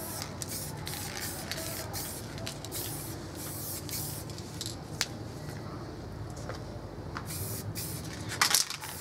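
Spray paint can hissing in long continuous bursts with short breaks, applying blue paint and blending it into light blue in spray paint art, close and steady with faint handling clicks.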